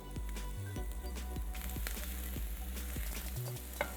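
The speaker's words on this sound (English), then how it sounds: "As the oil starts heating up, I'm going to first add garlic. With that, I'm going to also add onion to it and celery." Garlic, onion and celery fry in hot oil in a pan, making a constant, fine crackling sizzle with a few soft stirring taps over a low background hum.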